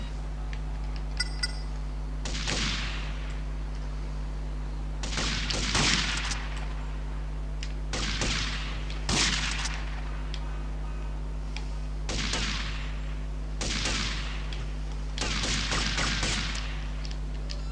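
Repeated bursts of gunfire in GTA Liberty City Stories, about seven roughly evenly spaced volleys over a steady low electrical hum, fairly loud and with no talking.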